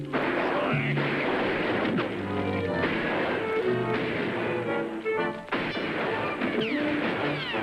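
Booming cannon fire on the 1968 Disneyland Pirates of the Caribbean ride crashes repeatedly over a dense, loud background of music and commotion, the blasts heavy and continuous throughout.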